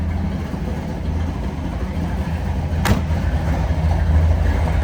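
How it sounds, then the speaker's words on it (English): A 1969 Chevrolet Camaro Z/28 V8 idles close by, a deep, steady rumble with a low throbbing exhaust note holding constant throughout. "Let's go give a listen to those pipes."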